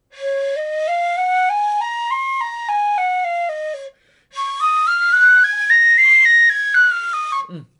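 A shinobue bamboo flute plays two clear, solo scale runs that climb and then descend, separated by a short pause and ending with a brief low breathy note.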